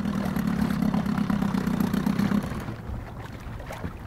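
A boat engine idles with a steady, loud mid-pitched chug for about two and a half seconds, then cuts out, leaving softer outdoor noise with faint ticking.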